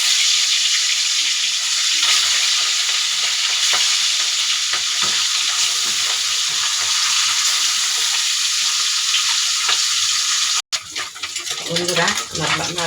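Fish frying in hot oil, a steady loud sizzle with occasional stirring scrapes that cuts off abruptly near the end, followed by quieter clatter.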